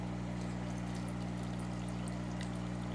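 Water poured over stones in a rock tumbler barrel, being readied for an ultra fine 8000 grit polishing stage, makes a steady continuous pour with a low, even hum beneath it, close and unbroken, with no talking.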